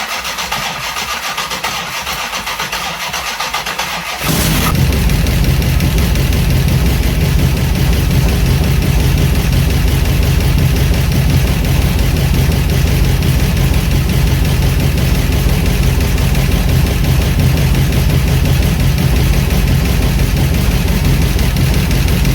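Oldsmobile 455 engine in a 1967 Cutlass cranks briefly, then catches and settles into a loud, steady, slightly uneven idle that rumbles on close by with no talking.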